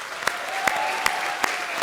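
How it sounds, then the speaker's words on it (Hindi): Brief applause for the performer Raja on a comedy TV stage, with a few sharp accents standing out over a faint sustained tone. "तो भाई हमारे आज के सुपरस्टार राजा के लिए एक बार जोरदार तालियां हो जाए"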